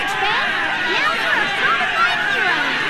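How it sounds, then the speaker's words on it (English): Crowd noise in the video game Fairy Fencer F: a dense, continuous clamor of many overlapping, swooping voices. "Can't hear you over the crowd."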